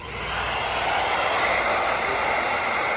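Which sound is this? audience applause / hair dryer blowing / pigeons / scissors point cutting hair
hair dryer blowing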